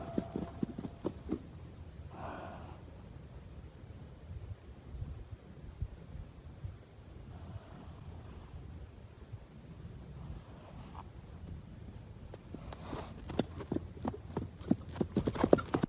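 A horse's hooves clip-clop in scattered steps over about sixteen seconds, faint at first and growing louder and more rapid near the end, with wind in the background.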